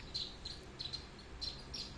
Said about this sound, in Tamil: அதுதான் குஞ்சு குருவிங்க.